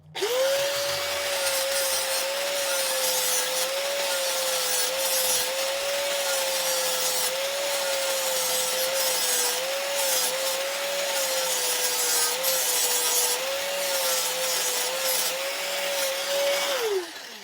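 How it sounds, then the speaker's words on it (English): An angle grinder wheel grinds the edge of a metal dash bar mount for an Anvil Overland dash bar, a loud continuous whine held steady for about seventeen seconds with an abrasive rasp and no pauses. "I've had to grind this edge to an angle to allow"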